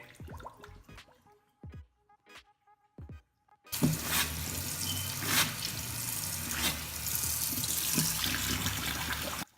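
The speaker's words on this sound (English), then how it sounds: "everything is going down the drain and all the water is going through" A kitchen sink after unclogging: a few light clinks and drips at first, then water from the tap runs loudly and steadily down the drain, close up and without talk.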